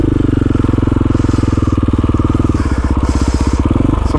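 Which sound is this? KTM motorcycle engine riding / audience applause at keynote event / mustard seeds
KTM motorcycle engine riding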